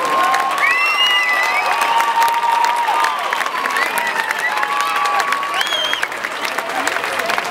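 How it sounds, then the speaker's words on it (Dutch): Sustained audience applause and cheering greet a tightrope walker finishing his crossing at the Circus en Co festival in 2011, a dense, steady roar of clapping with whistles and shouts throughout. "Een applaus voor Michel Menet"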